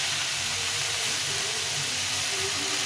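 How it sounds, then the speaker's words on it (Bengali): Fresh, very young leafy greens tip into a hot pan with tomato and salt, setting off a steady, broadband steaming hiss that fills the whole moment without a break, close and moderately loud, with no talking. "এখন আমি দিয়ে দেবো শাকটা"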